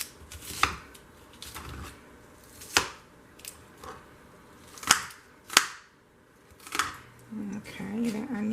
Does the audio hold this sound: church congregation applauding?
no